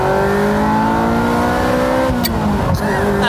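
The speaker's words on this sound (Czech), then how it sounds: "tenhle motor se vytáčí do 8500 otáček" A Ferrari F355 Spider's high-revving engine screams as revs climb toward 8500 rpm, rising harmonics sweeping upward, then a brief dip around a gearshift before it pulls hard again, loud and close.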